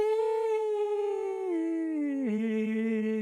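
A dog howls nearby in one long, sustained, tonal wail that slides gradually downward in pitch and drops sharply near the end.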